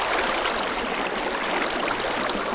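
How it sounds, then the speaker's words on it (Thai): Flowing water in Minecraft, a steady hissing rush like a stream, constant and moderately soft with no pauses or voices. "อ้าวน้ำไหล"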